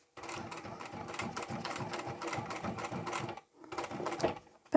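Sewing machine stitching a seam on a vinyl laptop handbag: rapid, rhythmic mechanical clatter running steadily, pausing briefly, then resuming in a short final burst, close and distinct.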